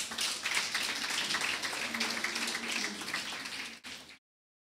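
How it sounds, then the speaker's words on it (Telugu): An audience at a women's gathering claps together in a steady, dense wash of applause that holds for several seconds, then cuts off abruptly. "క్లాప్స్."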